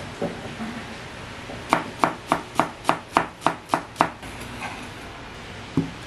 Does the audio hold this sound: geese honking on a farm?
no